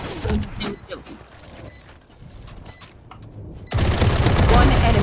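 Video game gunfire crackles in rapid bursts, loud at the start, thinning through the middle and then returning as a dense, loud barrage near the end.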